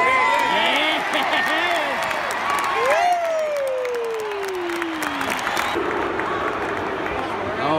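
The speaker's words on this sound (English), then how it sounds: "crowd are upset now." A football stadium crowd at a Richmond versus Brisbane match roars and murmurs loudly and continuously, with a whistle-like tone sliding downward partway through.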